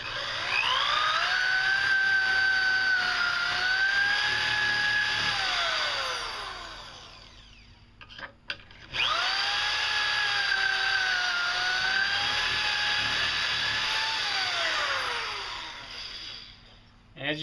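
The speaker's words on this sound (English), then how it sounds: "as you can see, as you're drilling, it actually pushes the extra sawdust that or the extra wood that you've been cutting up through it" A corded DeWalt drill bores into wood through a Kreg Jig Jr. pocket-hole guide, two loud sustained whining runs with a short pause between, close and steady.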